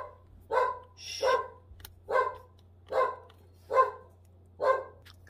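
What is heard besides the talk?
dog Charlie barking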